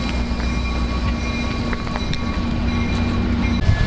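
Steady rumble of a train with disc brakes rolling along the rails, a continuous loud drone with faint squeals and clicks over it.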